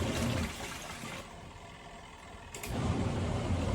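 A Pyle portable 2-in-1 top-loading washing machine runs a wash cycle with water partly drained, giving a loud, steady sloshing churn that eases for a moment, cuts off briefly, then surges back strong.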